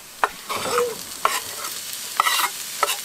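Bell pepper frying in a pan, with several short sharp clatters of stirring and a soft, steady sizzle running underneath, close and fairly quiet.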